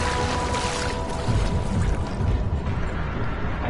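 Water sloshes and splashes in the horror video game Amnesia, a loud continuous churning rush with deep rumbling underneath.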